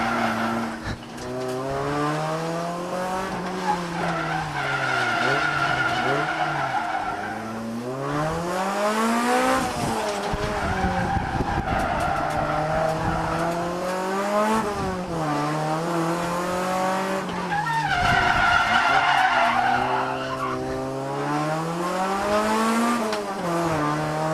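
A Honda Prelude sliding around mountain touge bends, the engine rising and falling in pitch through repeated revs while tires skid and squeal in drawn-out bursts, loud and close throughout.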